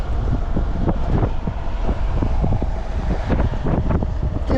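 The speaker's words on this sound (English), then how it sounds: "Give it a shot in some windy conditions again" Outdoor wind buffets a small clip-on DJI Mic Mini microphone during an early-morning ride, a loud, low rumbling gusty roar with irregular thumps throughout and no voices.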